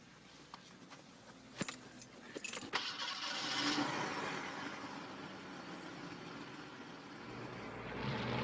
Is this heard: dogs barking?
no